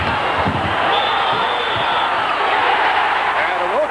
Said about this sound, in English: immediately we heard the boos from the crowd here at Assembly Hall in Bloomington